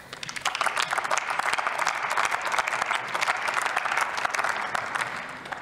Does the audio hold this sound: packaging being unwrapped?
no